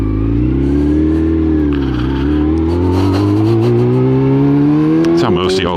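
A motorcycle engine revs loudly and close, its droning pitch dipping and then climbing steadily over several seconds, with a brief clatter near the end.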